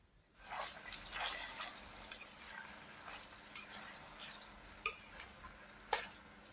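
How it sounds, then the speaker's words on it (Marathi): Green beans sautéed in oil in a pan give a steady soft sizzle, with occasional sharp clinks of a spoon stirring against the pan and no talking. "सगळ्यात आधी शेंगाच टाकणार आहे मी. तर शेंगा तेलामध्ये चांगल्या असं परतून घ्यायच्या"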